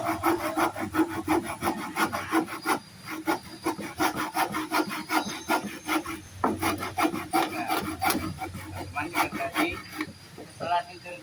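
A hand saw cuts through wood for a cheap homemade chicken coop, with rapid, rhythmic rasping strokes close by that pause briefly midway and then resume.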